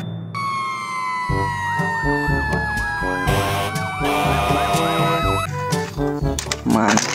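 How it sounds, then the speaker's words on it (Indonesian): An electronic toy fire truck siren wails in rising and falling sweeps, with clicks and tones, while a person talks over it. "Yang ini mobil pemadam kebakaran."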